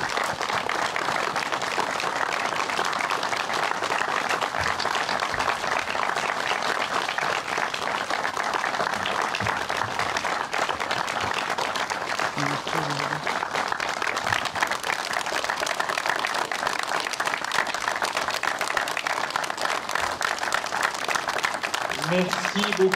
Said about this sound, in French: On va applaudir pendant 1 minute Dominique Cordeau.